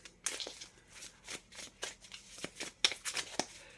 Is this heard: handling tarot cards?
yes